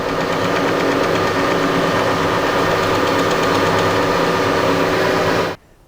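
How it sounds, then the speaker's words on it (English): A metal lathe cuts the first pass of a 1/2 UNC thread on a steel drawbar for a Harrison mill, with coolant running. It gives a steady, loud mechanical drone with a grinding buzz throughout, then stops abruptly near the end. "I'm cutting the first pass on the thread, 1/2 UNC on one of the vertical bars"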